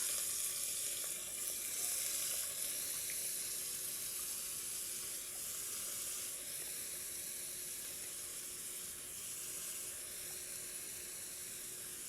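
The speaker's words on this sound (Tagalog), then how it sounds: "binababad ko sa tubig na may asin para mawala yung pait o pakla palaya" Tap water running steadily into a basin to soak sliced bitter gourd in salt water, a continuous hissing splash at moderate level with no talk.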